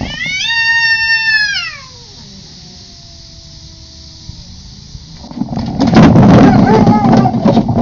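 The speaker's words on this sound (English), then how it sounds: "This cat was in trouble and yelled for backup from her big brother." A cat lets out a loud, drawn-out distressed yowl that wavers and fades, followed by a brief quiet stretch and then a burst of noisy scuffling commotion.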